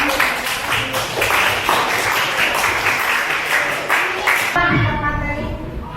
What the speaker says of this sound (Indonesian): Tepuk tangan buat Mbak Juan.